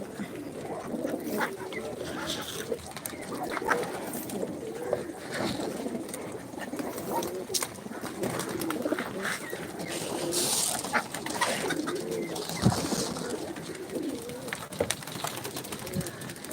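Fancy pigeons coo in soft, repeated low calls, with a few other birds and background noise mixed in and people talking nearby over them.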